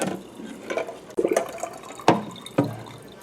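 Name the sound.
draining hot water from boiled eggs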